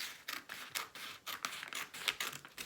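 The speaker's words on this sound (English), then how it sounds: "lift it carefully and cut along the edge" Scissors snip along the edge of a paper bag in a quick run of close, crisp cuts, each snip separated by brief pauses.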